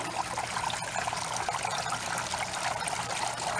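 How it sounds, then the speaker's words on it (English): Water trickling steadily as a garden pond fountain is flushed outdoors. The close, continuous splashing and dribbling has no voices over it. "I'm flushing my pond, or my fountain, one more time."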